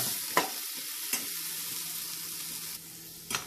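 Sliced pickled limes are stirred in a frying pan, a soft continuous sizzle broken by a few sharp scraping knocks of the spoon against the pan.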